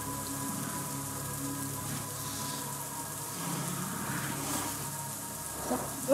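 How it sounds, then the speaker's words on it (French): Steady rain hiss fills the scene in the video game The Isle, a dense patter of drops on a surface with a low rumble beneath, continuous and fairly even. "Non, il pleut, Thomas, ça sert à rien."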